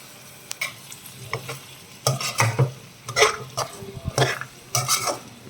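Softened tomato masala stirred in a pan, scraping spatula strokes in irregular bursts over a low sizzle, close, with occasional clinks of metal on the pan.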